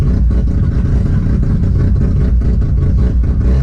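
A Mazda RX8 with a 13B rotary engine runs with its exhaust valve fully open during road tuning, a loud, steady, close rumble with a dense low drone and faint mechanical clatter throughout.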